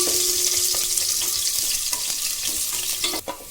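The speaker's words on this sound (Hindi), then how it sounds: "इससे ज्यादा नहीं भूनना है प्याज को" Long thin onion slices frying in hot oil until just pink for a Sindhi spinach curry, a loud continuous close sizzle with occasional spoon scrapes and a sharp clatter near the end, no talking.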